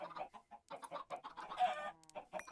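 Chickens clucking in the video game Minecraft, a series of short, close clucks and squawks in quick irregular bursts.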